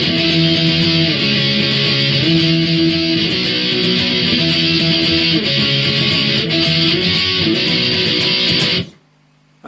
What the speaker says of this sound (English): instead of playing single notes we're going to be doing power chords